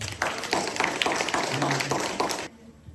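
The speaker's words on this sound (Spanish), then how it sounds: "Vamos a darle un aplauso al Señor." A church congregation applauds in a short burst of rhythmic, fairly close clapping that stops abruptly after about two and a half seconds, leaving a quiet room.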